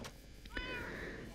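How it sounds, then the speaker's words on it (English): A cat meows in the Minecraft video game, one short, faint meow heard close by beneath quiet background noise. "I knew I could hear a cat around here."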